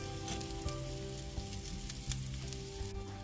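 Chicken schnitzel fries in a pan with a steady, close sizzle throughout, dense crackling broken by a few brief louder pops, with no voices over it.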